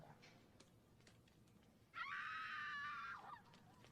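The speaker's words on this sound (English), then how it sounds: "How about some screaming? Screaming's good. Some sound of screaming." A single drawn-out scream rings out for over a second, loud and alone against a quiet background, preceded by faint murmurs.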